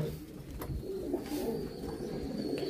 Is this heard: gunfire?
no